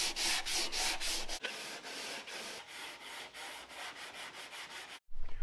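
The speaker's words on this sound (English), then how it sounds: "I've got the center section all sanded. I'm gonna sand the front, sand the back," Body filler on a crashed Ram truck being sanded by hand, with brisk, rhythmic back-and-forth scraping strokes, loud and close, stopping briefly near the end before resuming.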